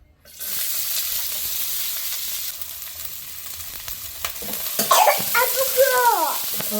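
Spices and curry leaves crackling and sizzling as they hit hot oil for a South Indian tempering with chili powder, a loud steady fry building in intensity with a stirring clatter near the end.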